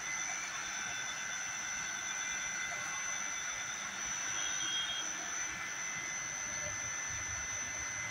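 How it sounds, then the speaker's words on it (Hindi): A semi-automatic vertical glass beveling machine with five motors grinds the edge of a glass sheet, a steady high-pitched whine and hum held evenly throughout at moderate volume with no talk. "Bevel grinding."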